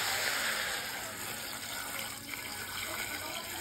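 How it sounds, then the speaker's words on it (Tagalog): Water pours steadily into a pot of papaitan stew, a continuous close gushing rush that holds level for a few seconds with no talking. "Lagyan na po natin ng tubig."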